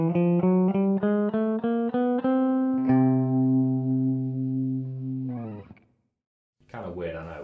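Electric guitar climbing a chromatic scale from C to the C an octave above, one note at a time in quick even steps. The top note rings out and sustains loudly before fading, and a brief voice follows.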